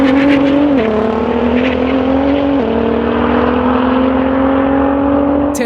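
A Porsche 911 Turbo S and a 4.1 liter Nissan GT-R launch side by side in a drag race, engines roaring loud and close and rising through gear shifts with clear drops in pitch during one sustained pull.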